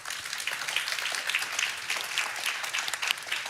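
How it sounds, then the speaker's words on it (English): Steady applause at a Warsaw European Conversation conference thanks the panelists, an even wash of clapping from the audience at moderate distance throughout. "Please give us applause to top panelists"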